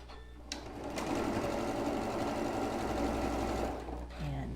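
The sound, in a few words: sewing machine sewing a seam in quilt block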